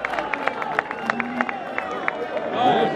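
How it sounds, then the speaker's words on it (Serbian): A fight-night arena crowd claps in a rhythmic, evenly spaced beat to salute the fighter Medonja, over a constant background of crowd hubbub and voices. "Možemo li pozdraviti još jednim aplauzom na Medonje ponovo u areni?"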